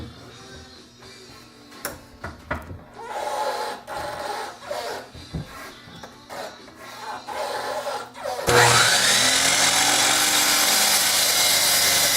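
Scattered knocks and handling of wood give way to a loud power saw whining steadily through a board, cut slowly to avoid tripping the breaker, sustained for several seconds.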